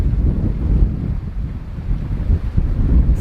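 Steady wind buffeting the microphone with low water rush as a sailboat moves on the Atlantic side off Grenada toward Carriacou, a continuous, close roar with no talking.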